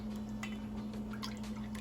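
Strained Jamaican sorrel drink is poured into a container, giving a quiet, continuous trickle with small drips and splashes.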